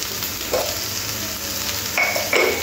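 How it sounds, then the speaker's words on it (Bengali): Potatoes with onion and green chilli fry in a pan, a steady close sizzle with a few louder stirring scrapes near the start and end, no voices. "আলুগুলো একদম নরম করে ভাজতে হবে।"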